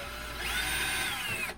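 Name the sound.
power drill drilling out a hole on a Foxbody front end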